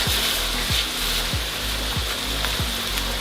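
A spoon stirs bean stew in a pot seasoned with bay leaf, thyme and curry powder, scraping in a regular rhythm about every half second over a constant sizzling hiss, close and fairly loud.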